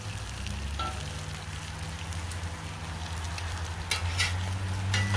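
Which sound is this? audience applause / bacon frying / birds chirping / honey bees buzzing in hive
bacon frying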